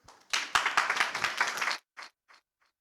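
A short burst of applause from a small conference audience for a panel, loud for about a second and a half, then a few scattered final claps fading out.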